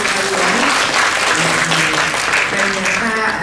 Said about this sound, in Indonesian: Tepuk tangan dulu teman-teman yang